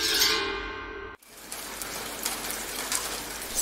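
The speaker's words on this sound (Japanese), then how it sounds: "彼らは雨の降り注ぐ音で目覚めた。" Rain pouring down heavily as a loud, dense wash that cuts out abruptly, then returns as a steadier, softer patter of drops on a surface, with no voices.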